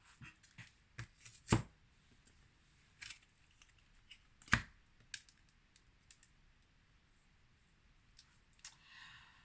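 A deck of tarot cards is cut and shuffled in a quiet room: sparse soft clicks and card taps, two sharper slaps, and a brief riffle near the end, with no talking.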